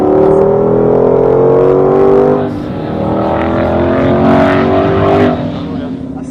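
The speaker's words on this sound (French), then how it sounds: "et du gaz, d'accord, on a derrière, on accélère." A car, a Mustang, accelerates hard from near the driver's seat, its engine pitch climbing through two rising pulls with a gear change between them, while a person talks over the noise.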